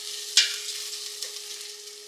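Whole spices with ginger, garlic and green chili sizzle in a pan for kofta curry, a short burst of crackling hiss followed by a quieter steady fry and a faint tonal hum.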